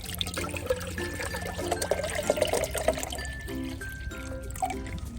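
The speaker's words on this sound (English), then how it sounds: "we're going to fill the JetBoil up to the safe line. I got some water here." Water from a 16-ounce bottle pours into a JetBoil stove pot with a steady, close trickling and gurgling over several seconds, rising in pitch as the pot fills.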